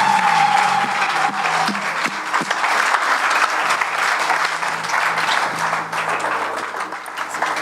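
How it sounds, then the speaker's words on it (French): Church congregation applauding and cheering loudly in praise of the Lord, a dense, steady roar of clapping with crowd acclaim sustained throughout. "nous allons acclamer fortement le Seigneur"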